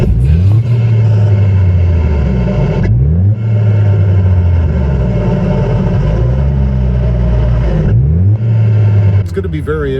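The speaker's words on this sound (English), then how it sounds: "Let's give it a couple touches of the accelerator while I'm just sitting in the driveway." Car fitted with a Banks intake, heard from under the hood while parked in a driveway: loud close engine with repeated throttle blips rising and falling, several revs in a row over a steady idle.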